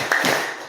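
A group clapping game, tepuk siang, tepuk malam, at an agricultural training session: a quick pair of sharp hand claps close by, then fading room echo.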